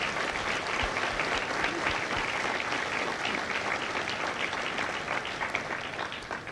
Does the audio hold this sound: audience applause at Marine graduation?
yes